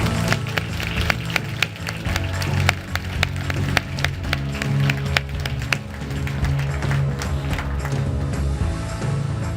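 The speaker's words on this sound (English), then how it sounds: "big round of applause for Future Assure" Applause for a third-place award winner at a health care innovation challenge: a steady patter of clapping from a small audience, continuous and fairly close throughout.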